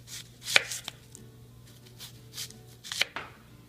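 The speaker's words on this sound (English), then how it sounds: "We'll cut onions in thick slices too." Knife cutting onions into thick slices on a board, a few distinct crisp chops spaced irregularly, close and fairly quiet with soft handling noise between them.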